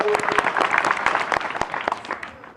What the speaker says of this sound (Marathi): त्यांचं टाळ्या वाजून एकदा स्वागत करावं